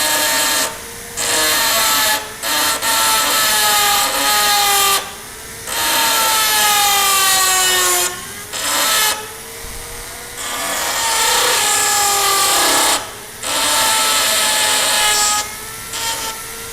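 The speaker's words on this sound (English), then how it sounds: "We need to cut this board." Hand sawing through a wooden board in bursts of rasping back-and-forth strokes, loud and close, with short pauses between runs of cuts; no talking.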